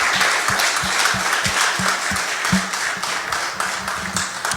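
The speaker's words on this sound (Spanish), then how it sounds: "¿Cuánto le dan un aplauso al Señor?" A church congregation applauds during a bilingual service, a loud, dense patter of many hands mixed with rhythmic low thumps, like stomping or a drumbeat keeping time, steady for several seconds.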